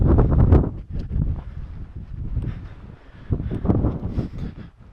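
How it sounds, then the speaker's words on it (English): Strong wind buffets the microphone on a mountain hike up Kebnekaise, Sweden's highest peak, as loud rumbling gusts that swell and ease continuously, rising again near the end. "And the wind is blowing as much as you can hear."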